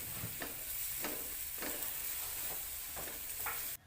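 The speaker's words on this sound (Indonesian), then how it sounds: "Tumis kembali hingga bumbu benar-benar matang." Spice paste being stir-fried in a pan for a fish dish, a continuous loud sizzle with a spatula scraping and stirring in a steady rhythm roughly every half second, alone with no talking.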